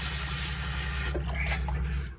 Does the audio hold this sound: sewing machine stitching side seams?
no